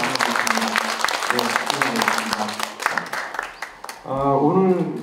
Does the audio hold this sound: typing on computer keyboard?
no